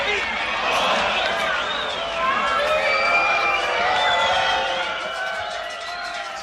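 A large crowd gathers outside a door, a loud, continuous roar of many overlapping voices shouting and cheering, close and dense, with individual calls rising and falling throughout.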